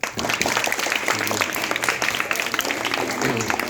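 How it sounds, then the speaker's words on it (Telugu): Children clap together in a room, a dense and steady burst of applause that holds loud and close for several seconds, with faint voices mixed in. "అందరూ చప్పట్లు కొట్టండి పిల్ల."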